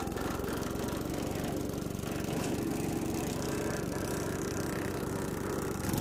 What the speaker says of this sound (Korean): 이렇게 다 파쇄를 해줍니다.